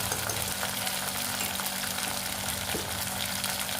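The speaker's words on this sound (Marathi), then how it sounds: "आता हे तो तळतच आहे" Whole spices such as cloves, peppercorns and cinnamon fry in hot oil with a paste for a dhaba-style shev bhaji tadka, giving a steady, close, broadband sizzle that runs unbroken throughout.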